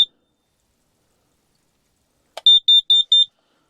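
A detector alarm's test button is pressed inside a canvas tent, giving one brief chirp followed after a pause by four quick, loud, evenly spaced high beeps in an otherwise silent space.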